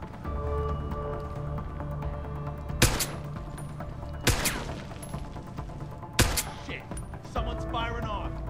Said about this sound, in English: Someone's firing off!